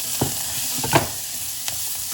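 Small onions and curry leaves, lightly salted, fry in oil for a Salem-style tomato sambar, making a steady close sizzle with a few sharp stirring clicks.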